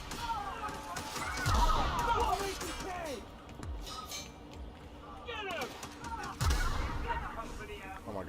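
Gunfire rings out in the sci-fi game The Outer Worlds: a few scattered sharp shots and impacts over background game sound, with a voice shouting in between.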